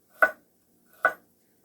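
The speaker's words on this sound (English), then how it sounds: "you can always just chop a little carrot like this" A knife chops through a carrot twice, two crisp, separate thunks on a cutting board about a second apart, close and clear with silence between.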